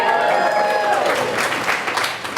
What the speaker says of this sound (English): Thanks for cheering us.